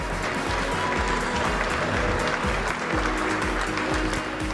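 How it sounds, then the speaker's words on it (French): Spectators at an equestrian competition results ceremony applaud a fourth-placed ridden mule, a steady, moderately loud round of clapping over rhythmic low thumps in the background. "La mule Poitvine, on l'applaudit s'il vous plaît."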